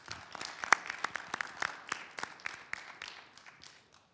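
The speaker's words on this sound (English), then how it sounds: "If everybody could give them a round of applause," Scattered, fairly quiet clapping from a small audience at a student government election debate, individual claps distinct and thinning out before stopping near the end.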